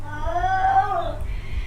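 A single drawn-out cat meow, loud and close, rising then falling in a wavering whine, heard alone without talk.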